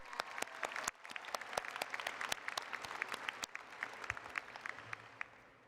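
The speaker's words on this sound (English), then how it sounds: "I hope you'll join me in giving a round of applause to our student commencement speaker" Scattered applause from a commencement audience for the student speaker, fairly faint and distant, with individual sharp claps standing out before it slowly thins.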